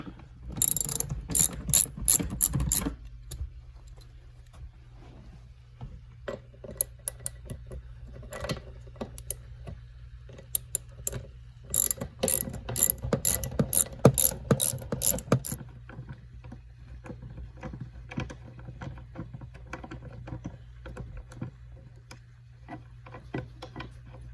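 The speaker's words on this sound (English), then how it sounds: "So we've got a 15mm socket to get on there." A ratchet socket wrench with a 15mm socket loosens minivan seat bolts, giving bursts of rapid clicking near the mic, louder at the start and again in the middle, with quiet pauses between.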